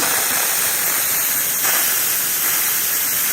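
Steam wand on a Saeco espresso machine hisses in a steady, loud, broadband rush for the whole stretch, with a slight surge partway through and no voices.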